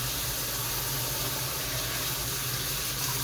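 Lids are rinsed under a running tap during a morning feeding routine, with a steady, even rush of water close by.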